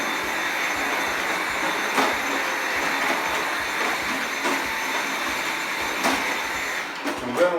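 A Dyson V7 Animal Pro cordless vacuum cleaner runs at its minimum power setting, giving a steady, moderately loud motor whir that holds level throughout, with a few light knocks near the end.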